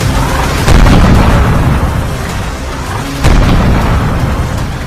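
Heavy booms and rumbling blasts from explosions and air strikes in Baghdad news footage, loud and continuous, with two sharper surges standing out against a dense roar.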